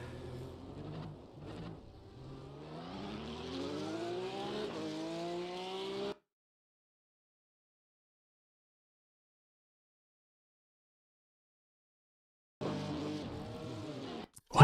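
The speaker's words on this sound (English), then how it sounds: "Why did my car bog down?" Race car engine in an Imola racing video game revving with rising pitch sweeps, then cutting out abruptly into a long silence before a brief engine burst returns; faint and without talk.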